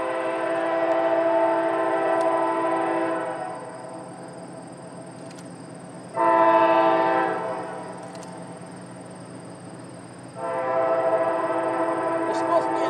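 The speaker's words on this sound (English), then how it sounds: "Sound of a horn, especially late at night." A Pan Am Railways train horn on the line between North Adams and Buckland, Massachusetts, sounds from a distance in three long, sustained blasts separated by pauses, with no voices over them.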